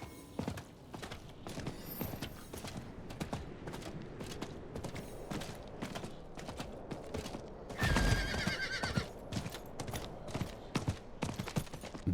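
Horse neighing and hooves clip-clopping in the Diablo IV video game, a steady run of hoofbeats with a loud whinny near the middle, all without talk.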